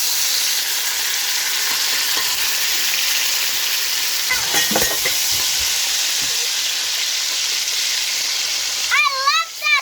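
Onions and garlic fry in a pan with a loud steady sizzle close by, a short stirring clatter midway, and a voice briefly breaking in near the end.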